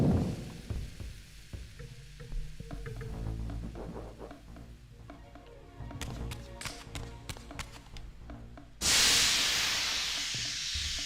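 A loud, continuous hiss of steam venting in the video game Legacy of Kain: Defiance bursts in near the end and holds steady, after a stretch of clanking mechanical game sounds.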